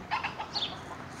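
A loose pet chicken gives a few short, close clucks in quick succession, brief and moderately loud over faint outdoor background noise, with no talking.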